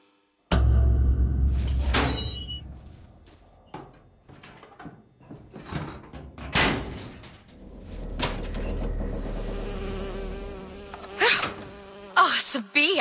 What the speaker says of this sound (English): Oh, it's a bee. I hate these things.